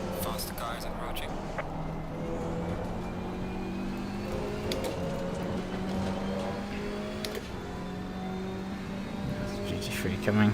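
GT3 race car in Assetto Corsa Competizione at Valencia: a steady engine drone with rising revs as a faster car closes in on the player's KTM X-Bow GT4 during a 4-hour race, with occasional speech over it.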